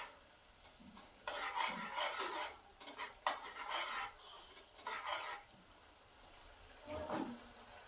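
Onion and capsicum for gobi manchurian are stirred in a pan, giving bursts of scraping and clinking utensil strokes with faint sizzling between them.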